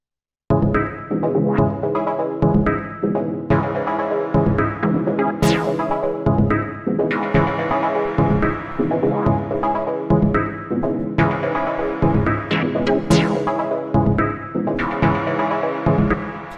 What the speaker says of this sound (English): all these little chord stabs, which sound like this